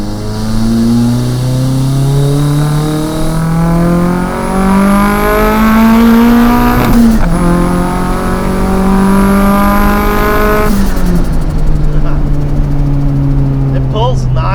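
An SR20-engined Nissan S13 drift car revs hard through a corner from inside the cabin, loud, rising and falling engine pitch with tire noise as it slides, and voices talk briefly under the roar.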